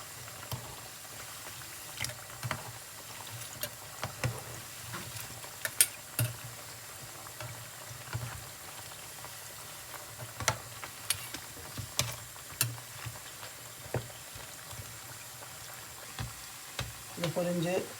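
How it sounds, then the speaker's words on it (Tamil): Sweet mung dal balls fry in oil, giving a soft, steady sizzle scattered with small pops and ticks, faint and close. "இது பொரிஞ்சு எண்ணெயில் நல்லா வற்றிக்குது."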